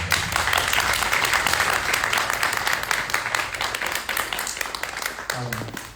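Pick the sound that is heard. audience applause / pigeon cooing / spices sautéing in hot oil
audience applause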